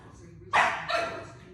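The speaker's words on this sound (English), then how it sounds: "Dogs in the background." A dog barks in the background of an indoor room, giving two sharp barks in quick succession that sound fairly loud against a quiet room hum.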